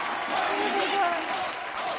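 A studio audience at a TV entertainment show breaks into dense applause, a brief continuous wash of clapping mixed with crowd voices.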